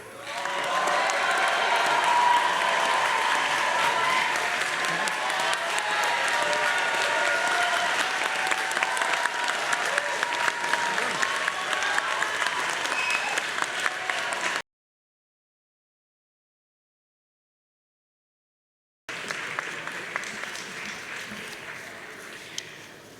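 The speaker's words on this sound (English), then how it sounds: "Can we have one more round of applause for all the graduates, please?" Audience at a computer science MS and PhD graduation ceremony applauds the graduates, long sustained dense clapping at steady loudness, then a gap of silence before a second burst of applause that slowly tapers off.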